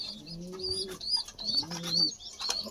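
Several pigeons at a racing loft coo in low, rolling phrases during feeding time in a village pigeon house with some young birds present, with light chirps over a close, steady backdrop.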